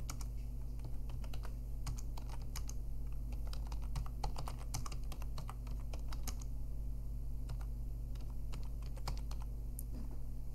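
Someone types a fabric name into a search field of ERP software on a computer keyboard, a quiet, steady run of closely spaced keystrokes with brief pauses and no talking.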